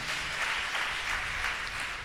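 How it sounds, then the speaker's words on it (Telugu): A Christian ministry gathering claps together during a sermon, a steady, evenly sustained wash of many hands at moderate loudness, with no speech over it. "చాలండి, చప్పట్లు కొడదామా?"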